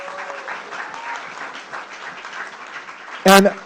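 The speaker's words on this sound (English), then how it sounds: "Round of applause to Lisa, for real" Audience applause at a live tech-community awards ceremony, a steady spread of clapping lasting several seconds with a voice over it, ending in a brief louder burst.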